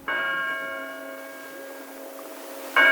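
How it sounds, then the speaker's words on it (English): A bell tower clock strikes three o'clock as a radio drama effect, with a sustained ringing tone decaying slowly and a second clear strike at the end, loud and alone. "it struck 3 o'clock on the new bell tower"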